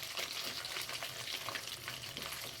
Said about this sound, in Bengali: আমার তেল গরম হয়ে গেছে, আমি এবারে ছোটো ছোটো বল তৈরি করে ভেজে নিচ্ছি।